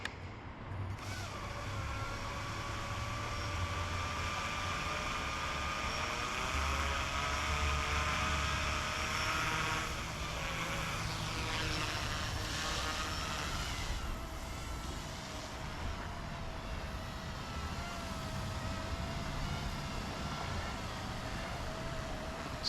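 An Eachine E120S RC helicopter flies outdoors, giving a steady, continuous motor whine and rotor buzz that stays fairly close and level throughout, with no voices.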